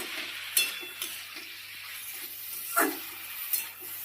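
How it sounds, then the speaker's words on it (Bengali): Snake gourd frying in a pan while being stirred, a soft, steady sizzle with several sharp scrapes and clinks of a spatula against the pan. "এবার একটু আবার নাড়িয়ে দেব ঢাকনা খুলে"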